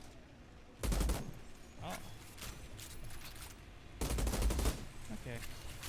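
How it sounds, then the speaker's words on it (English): A double gun in the shooter game Outriders fires two rapid machine-gun bursts, each about a second long and a few seconds apart, loud and close, with lighter gunfire and a brief voice in between. "It's just like another machine gun."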